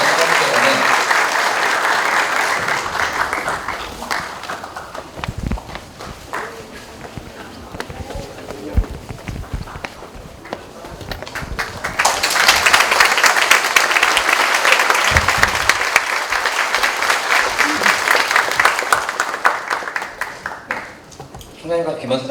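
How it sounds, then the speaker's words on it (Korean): An audience at a university staff meeting claps in a sustained round of applause, with a second louder burst partway through and some voices mixed in. "축하의 박수 부탁드립니다."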